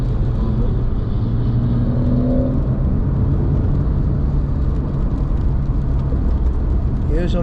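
A car on a race track, one of several cars running on rain tyres, its engine droning in a loud, steady rumble as it accelerates, with a voice talking over it.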